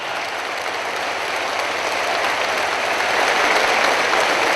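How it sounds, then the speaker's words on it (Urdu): An audience at a Pakistani event with the Prime Minister breaks into full applause, a broad, continuous wash of many hands clapping that holds steady and swells slightly toward the end, with no speech over it. "بھرپور تالیاں."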